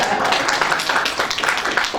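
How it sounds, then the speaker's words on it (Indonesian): A church congregation clapping together, brisk and steady, filling the room for the whole stretch with no talk over it. "Tepuk tangan, haleluya."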